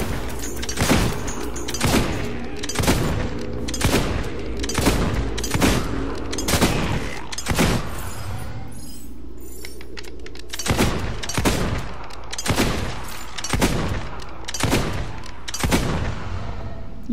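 Pistol gunfire in Fable II, a steady series of loud, sharp shots at roughly one-second intervals with a short pause partway through, alone with no talking.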